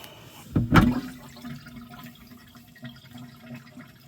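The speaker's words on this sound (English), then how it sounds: "Apparently it's gotten some rainwater in it or something, so we'll pull the plug." Rainwater drains out of the live well of a 2024 Xpress H18 boat once the plug is pulled, a sudden gurgling rush that fades into a quieter steady trickle.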